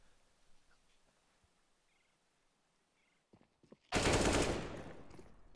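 MAC-10 submachine gun fire in Counter-Strike on the Inferno map, a single loud sustained burst that erupts after several quiet seconds of faint ambience and small clicks.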